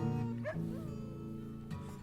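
A dog whines and howls with rising, wavering cries over a musical backing in a song, moderately loud and close.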